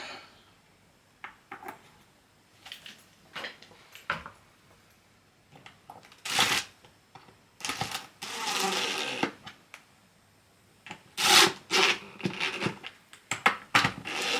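A drill whirs in several short bursts with pauses between, driving countersunk screws into wood with a grinding buzz, close up and without talk.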